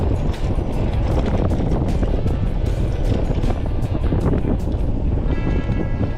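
Electric scooter speeding along a country road, dominated by loud, steady wind rush buffeting the microphone with road rumble beneath, continuous throughout.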